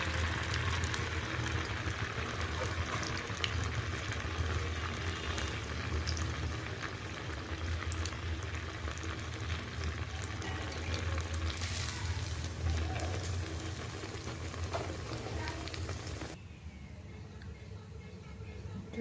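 Minapa vadas, urad dal fritters, frying in hot oil, a continuous close bubbling sizzle with occasional crackles, dropping off abruptly near the end.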